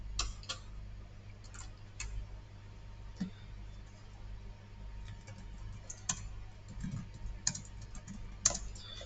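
Quiet, uneven keyboard typing of router commands on a computer during a Cisco networking lab, soft scattered keystrokes with a few sharper clicks over a low steady hum.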